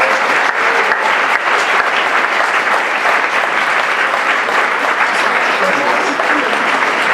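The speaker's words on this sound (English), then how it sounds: "So let's clap it up one more time." Loud, sustained applause from a large audience at Alexis Ohanian's 2013 "Hacking Your Future" talk, a thick, even wash of clapping filling the whole stretch.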